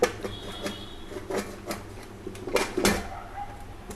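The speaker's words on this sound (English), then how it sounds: "Now we have to close the lid of the pressure cooker." A metal pressure cooker lid is fitted and closed over vegetable biryani, with a series of clanks, scrapes and clicks of metal on metal, close and moderately loud.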